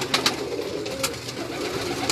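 Pigeons coo on a rooftop loft in Karachi, soft repeated throaty calls layered over each other, with a few sharper flutter-like bursts rising above the steady cooing.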